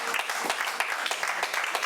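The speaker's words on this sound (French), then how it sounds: "On acclame pour Jésus-Christ." Church congregation applauding during a French-language sermon, a dense wash of many hands clapping steadily at moderate level for the whole stretch, with no talk over it.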